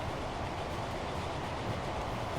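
A train running on tracks in the Transport Fever video game, a faint steady low rumble of rolling wheels with no talking.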